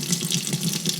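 Tap water runs steadily over a fountain pen section being rinsed under the faucet, a close, even splashing hiss throughout the brief moment.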